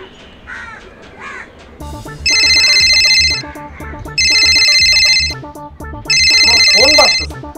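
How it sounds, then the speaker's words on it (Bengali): A mobile phone ringtone rings in three repeated bursts, loud and close, with brief gaps between them, alongside a busy indoor scene where a voice is heard and a crow-like call appears early on. "ফোন বাজতেছে"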